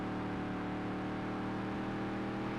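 A race car engine in the Dirt to Daytona video game drones at a steady, moderately high pitch, a continuous buzzing whine with no voices.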